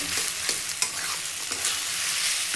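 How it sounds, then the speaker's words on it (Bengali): Oil sizzles steadily as taro leaves are stirred in a pan, with scraping spatula strokes coming through every second or so, no voices. "যতক্ষণ পর্যন্ত এটা না শুকিয়ে যাবে ততক্ষণ পর্যন্ত নেড়েই যাবে"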